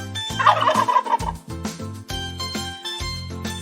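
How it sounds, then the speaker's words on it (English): A turkey gobbles loudly and close up, with a rapid, warbling burst of throaty calls repeated over a few seconds. "It makes the sound gobble, gobble. Correct. It's a turkey."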